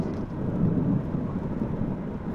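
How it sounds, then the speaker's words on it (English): Heavy rain falls in a foggy forest, a dense, steady low roar that holds at an even loudness for the whole stretch with no voices. "Fog, fog, fog and rain."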